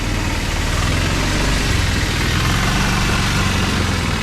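A vehicle's engine running steadily and close by as it drives through floodwater over a village road beside the flooded Kajali river, a low rumble masked by the loud rush of water.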